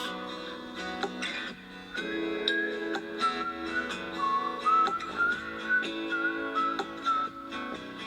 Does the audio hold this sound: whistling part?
yes